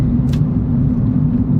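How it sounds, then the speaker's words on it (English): 2019 Kia Picanto GT with a small three-cylinder engine, a steady low drone of the engine while driving, heard from inside at a constant moderate level. "I like the noise that it makes, the little 3-cylinder engine"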